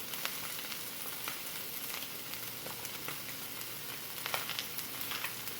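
Onion and shallots fry in a stir-fry pan with cabbage, producing a steady soft sizzle with small crackles throughout, fairly quiet and even.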